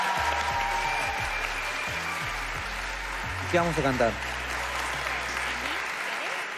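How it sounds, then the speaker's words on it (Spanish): Steady applause from a live television show audience rolls throughout, with voices talking over it and a low rhythmic tone underneath. "¡Aplauso!"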